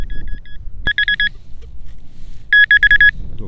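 A Minelab Manticore metal detector sounding in a field with iron: two short bursts of rapid, warbling electronic beeps separated by a quiet pause, clear and close over faint background hiss.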